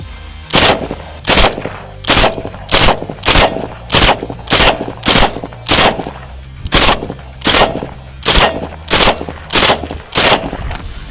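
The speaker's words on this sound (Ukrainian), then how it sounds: "Ну це не кулемет, але це автомат." Ukrainian "Vulkan" toy automatic rifle fires about fourteen loud, sharp bursts at a steady rhythm, each a short burst with gaps of a fraction of a second, close up with no talking.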